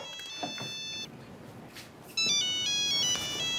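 A phone ringtone plays as a bright, repeating electronic melody, pausing briefly and then starting again louder, with no talking.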